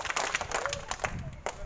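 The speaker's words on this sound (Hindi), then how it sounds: "तो ताली बजाओ।" Children clapping together at a free village health camp, with a quick burst of uneven claps mixed with voices from the group.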